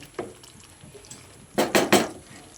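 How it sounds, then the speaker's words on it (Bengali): Curry for a vegetarian potato dum (aloo dum) stirred and mixed in a pan after a sprinkle of kasuri methi; a faint scrape early on, then three close, distinct clattering scrapes of a spoon against the pan in quick succession. "তারপর আরও একবার ভালো করে নেড়েচেড়ে মিশিয়ে নিচ্ছি।"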